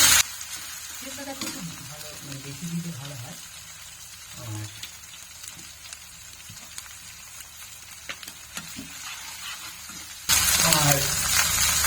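Steady sizzling of spices frying in hot oil, with faint voices talking in the background and a louder burst of sizzle near the end.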